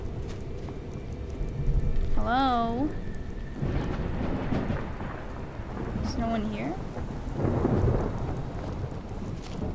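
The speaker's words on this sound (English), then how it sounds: "it's raining still" Steady rain falls with rumbling thunder at night in Skyrim, a modded video game, while a voice speaks in short phrases.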